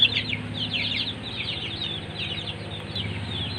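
Newly hatched native chicks, taken away from their mother, cheep in a continuous high, chirping chorus, close and fairly loud, with no voices over it.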